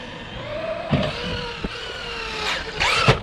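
A Traxxas Maxx V2 RC truck bashing at a skate park lands jumps. A whining electric motor rises and falls under a few sharp, heavy thuds as the truck comes down, with no talking.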